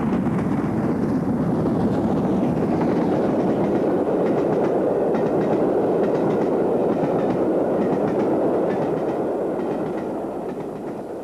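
A London, Midland and Scottish Railway steam locomotive runs on the main line, a loud, continuous rumbling roar with rapid chuffing and rail clatter that holds steady before easing slightly at the end.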